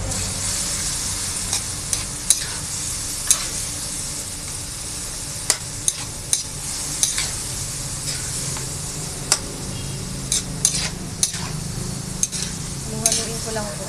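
Sweet potato being stirred in a sizzling pan for fresh lumpia filling, with a steady frying hiss and scattered sharp clicks of the utensil against the pan throughout, close and alone.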